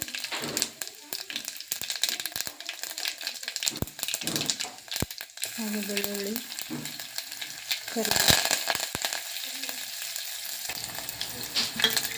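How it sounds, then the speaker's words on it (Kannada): Cumin and mustard seeds sizzling in hot oil for tempering, a steady crackling fry with spoon taps and stirring, while someone talks over it at times. "ಈಗ ಇಲ್ಲಿ ಒಗ್ಗರಣೆಗೆ ಎಣ್ಣೆ ಕೂಡ ಬಿಸಿ ಆಯಿತು ಅದಕ್ಕೆ ಜೀರಿಗೆ ಸಾಸಿವೆ"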